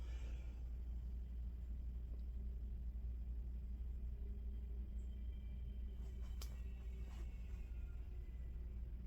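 A steady low rumble of a vehicle going by outside, distant and muffled, with a faint brief click near the end.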